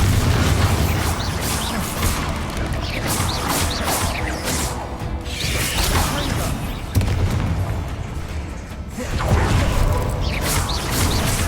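Bombarda spell blasts in Hogwarts Legacy, a loud booming crash near 7 s amid continuous dense game noise of rumbles and impacts, with a second swell of clatter late in the clip; no talk over it.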